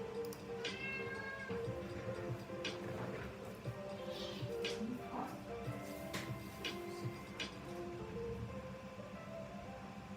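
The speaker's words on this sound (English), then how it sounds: "that little hiccup is my cat there on the floor who is screaming because she wants to go out" A house cat on the floor meows insistently to be let out, several drawn-out cries rising over a steady background hum, faint and somewhat distant.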